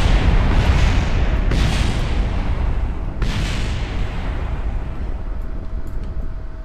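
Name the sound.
rocket exploding on the launch pad in Kerbal Space Program video game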